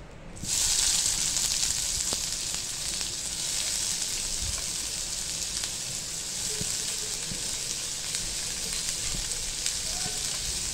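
Onion drops into hot oil in a pan for spicy brinjal bharit, setting off a loud, even, continuous sizzle and crackle that holds steady from just after the start to the end.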